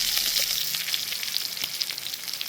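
Spices and tomato frying in a hot pan, giving a dense, crackling sizzle with small popping bursts throughout, close and steady with no one talking.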